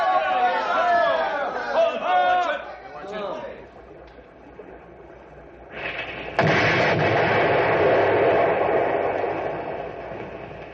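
A deep, roaring dynamite blast erupts and rumbles on for several seconds after an earlier burst of shouting voices.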